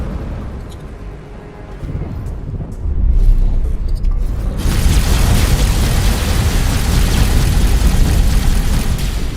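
A loud rumbling missile explosion in a space video game erupts partway through, followed by a sustained roaring boom and crackling that fills the rest of the clip.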